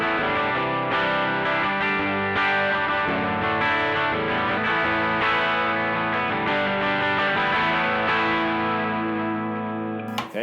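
Guitar played through a TC Electronic Arena reverb pedal, sustained distorted chords ringing out steadily with a washy tail, loud and continuous with no talk.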